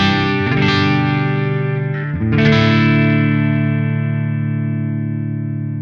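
Electric guitar through a PRS effect pedal switched off, playing dry on the neck pickup: two sustained strummed chords ring out loud and close, the second struck just after two seconds and left to decay slowly, with no voices.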